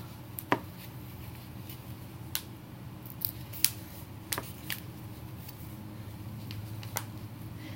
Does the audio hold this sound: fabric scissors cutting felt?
yes